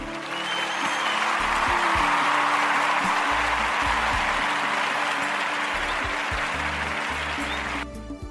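Audience applause fills the room for a talk-show host, a dense, steady wash of clapping that holds for several seconds before tapering off at the end.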